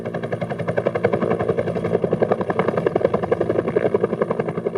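A Bell UH-1 Huey military helicopter thumps steadily with rapid, rhythmic rotor blade slaps over a loud turbine drone, close and continuous with no voices.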